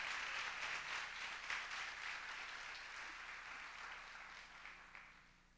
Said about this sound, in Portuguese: levante a mão e dê um forte aplauso ao Senhor